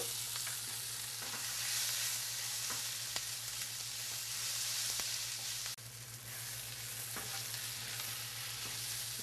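Onions and garlic frying in oil in a pan, a continuous even sizzle with faint stirring clicks and a low steady hum underneath, a brief dip in loudness partway through.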